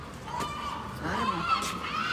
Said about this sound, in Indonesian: Burungnya disuruh diam.